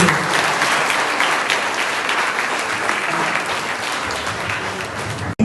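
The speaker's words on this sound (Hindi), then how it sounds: "इन बच्चों के लिए बहुत सारी तालियां आप सभी के।" An audience at a school Teachers' Day event applauds for children: loud, sustained clapping from many hands that holds steady for about five seconds, then cuts off abruptly.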